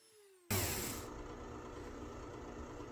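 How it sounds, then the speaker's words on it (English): A power tool starts abruptly and settles into a steady whirring grind as a sanding drum works against wood, continuous and close. "Wonderful little sanding drum."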